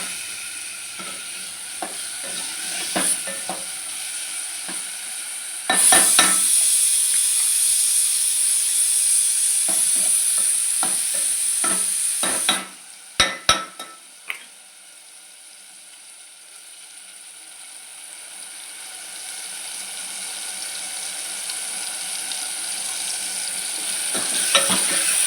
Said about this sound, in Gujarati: હવે આપણે હલાવી નાખીએ.